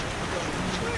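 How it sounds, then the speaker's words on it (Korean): A rain-swollen stream rushes near Eongtto waterfall on Jeju, making a brief, steady broadband roar of churning water. "비가 오니까 지금 엄청 저렇게 막 콸콸콸 흐르고 있어요"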